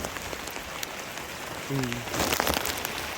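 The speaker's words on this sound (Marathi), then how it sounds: "परत पाऊस चालू झाला आहे बघा" Steady rain falls in a continuous patter, growing a bit heavier toward the end, with a faint brief tone in the middle.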